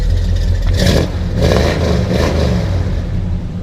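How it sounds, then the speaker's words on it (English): A 1976 Chevy C20 Cheyenne truck engine with dual Flowmaster exhaust revs hard through a deep, rumbling exhaust, surging in a few swells and staying loud and close throughout, with no talking. "It's got dual exhaust with flow masters. Go ahead and rev it up."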